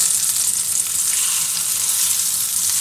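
A steak searing in a hot pan, a dense, loud, steady sizzle that holds unbroken at close range, with no speech.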